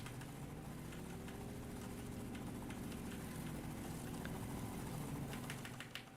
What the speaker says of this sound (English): those helicopters are so annoying to listen to